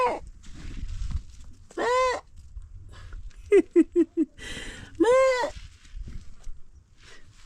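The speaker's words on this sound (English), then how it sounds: "This goat's right here." Goats bleat at close range in an African family setting, with two long wavering calls and a quick run of short bleats between them over a low background rumble.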